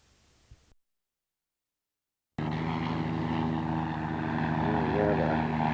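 Piston engines of a B-25 bomber parked at an airport run with a steady, loud propeller drone after a short silence, a continuous multi-engine roar that holds through the end.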